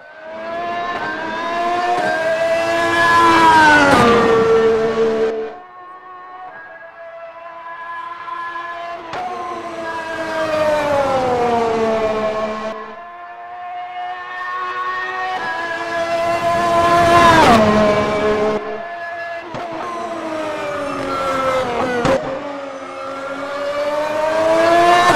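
A Formula Ultimate 2018 open-wheel race car engine in the sim racing game Automobilista, screaming high revs that climb through gear after gear with sharp drops at each shift, loud and continuous throughout.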